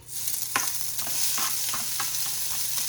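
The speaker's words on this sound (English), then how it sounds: "So we're on low, and you want to just cook this so that you baste out some of the oil from the pork belly." Pork belly fries on low heat in a wok, a close, steady sizzle with repeated light scraping taps of stirring, no speech.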